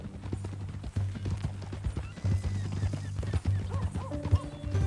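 Horse hooves clop along at a walking pace in Red Dead Redemption 2, close and fairly quiet, with a snort or whinny near the end and a low rumble running underneath.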